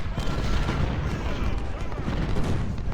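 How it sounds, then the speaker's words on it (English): Continuous rumbling artillery fire across a Civil War battlefield in Ultimate General: Civil War at Antietam, dense overlapping booms and distant cannon blasts forming a steady roar of battle. "there's a lot of enemy artillery just over there"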